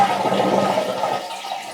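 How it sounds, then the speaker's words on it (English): A toilet with its water supply shut off flushes in one loud, close rushing surge, and the tank drains with a gurgling wash that fades toward the end. "We're going to flush the toilet, drain as much water as we can"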